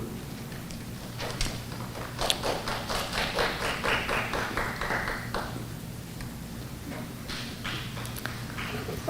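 A board meeting audience claps in a scattered, uneven burst of hand claps that builds, holds for several seconds, then thins out to a few stray claps.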